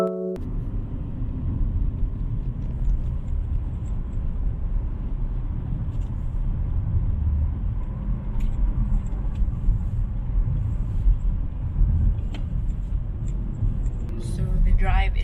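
Steady low rumble of a car driving along a road on the way to work, a continuous engine and road hum holding at an even level throughout with no distinct events.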